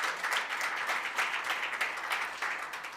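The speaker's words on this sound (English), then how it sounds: "Another round of applause, please." An audience at a media reporting workshop hosted by the Bank of Namibia claps in a moderate, continuous round of applause that is heard close by.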